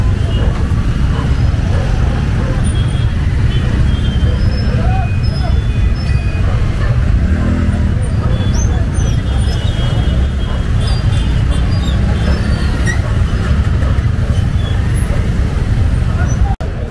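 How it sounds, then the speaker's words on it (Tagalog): Dense, constant street traffic noise in Divisoria, Manila's crowded market district, with a steady low rumble of buses, cars and trucks and a busy crowd murmur under it throughout. "Grabing traffic dito."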